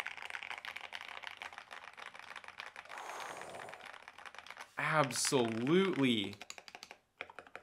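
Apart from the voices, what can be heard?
typing on a keyboard with Akko clear keycaps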